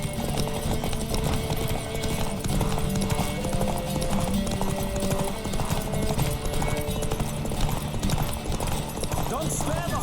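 Horse hooves gallop in The Witcher 3 during a race, a rapid, steady clip-clop that is close and continuous, with a brief whinny and voices talking over it.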